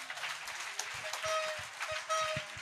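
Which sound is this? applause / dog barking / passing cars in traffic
applause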